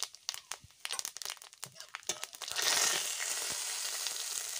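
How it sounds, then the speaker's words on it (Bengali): Dried red chillies, bay leaf and whole cumin drop into hot oil for a Bengali fish curry: a burst of crackles and pops, then a steady close hiss of frying that holds to the end, with no speech. "ফোড়নে দিয়ে দিচ্ছি দুটো শুকনো লঙ্কা। বন্ধুরা, যে শুকনো লঙ্কা, তেজপাতা আর গোটা জিরে দিয়ে দিলাম।"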